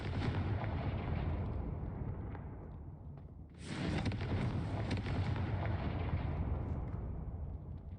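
A Confringo blasting-spell explosion from the Hogwarts Legacy video game, a loud, dense roaring blast that fills the whole clip, easing briefly midway before a second surge of rumbling detonation.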